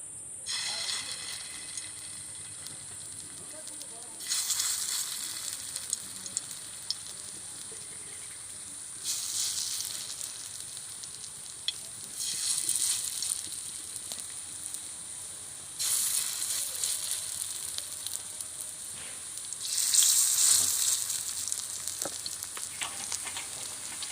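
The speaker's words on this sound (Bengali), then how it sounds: "এবার বড়াগুলো আমি ভেজে নেব" Pumpkin flower fritters frying in hot oil on a tawa, a steady crackling sizzle that swells into louder bursts several times, likely as fritters are added or moved, with occasional light scraping.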